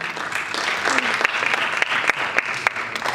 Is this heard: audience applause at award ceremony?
yes